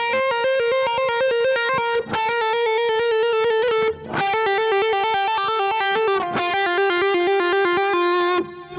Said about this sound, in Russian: Играем нисходящие трели по соль минорной гамме, по натуральному соль минору на второй струне вниз от ноты си бемоль.